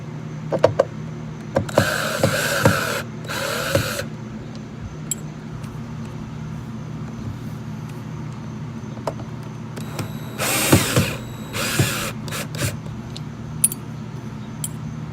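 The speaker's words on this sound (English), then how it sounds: "There's 3 screws within it. Take those 3 screws out." A power screwdriver backs three screws out of the storage ring on a 2018 Yamaha 212X boat in two short whirring bursts, one at a time. Clicks and small clatter of parts sit between the bursts against a steady low hum.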